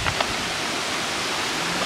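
The Ereguán waterfall at Parque Ecológico El Manzano in Chalatenango, El Salvador, a steady, dense hiss of falling water heard close by and unbroken throughout.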